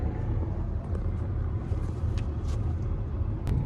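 A car engine rumbles low and steady from inside a moving vehicle, with road noise beneath and a couple of faint clicks.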